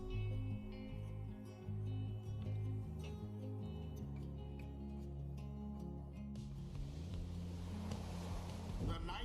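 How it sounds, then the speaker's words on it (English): A boat in the video game Pyre gives a steady low rumble and watery wash beneath layered game music, swelling into a broader noisy rush near the end. "Because that's a boat."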